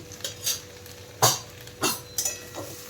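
Ground turmeric, coriander and cumin sautéing in a pan for dudh shukto: a few sharp scrapes and clinks of a spoon stirring against the metal, close by, over a faint low sizzle.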